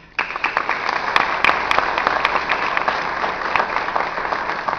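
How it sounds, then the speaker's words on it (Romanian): Steady applause from an audience at the Crizantema de Aur festival in Târgoviște, starting abruptly and holding as a dense wash of clapping with a few sharper individual claps standing out. "vă aplaudăm și vă mulțumim"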